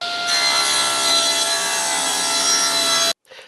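Saw ripping 14-inch wood pieces down to 3/4 inch for a finishing and drying rack jig, a loud steady cutting roar lasting about three seconds before stopping abruptly, with no talk.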